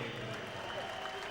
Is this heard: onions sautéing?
no